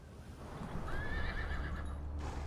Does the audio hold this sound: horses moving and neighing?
yes